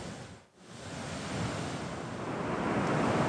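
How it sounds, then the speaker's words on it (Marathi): Rushing water of the Someshwar waterfall on the Godavari river near Nashik during heavy monsoon rain, a continuous loud broadband roar that briefly dips then swells and holds steady. "गोदावरीमधल्या विसर्गामुळे सोमेश्वर धबधबा सुद्धा प्रवाहित झालाय"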